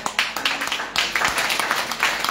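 A church congregation claps in welcome for Papa Bishop, a brisk run of overlapping hand claps, fairly close and moderately loud, with a brief pause near the middle before the clapping picks up again.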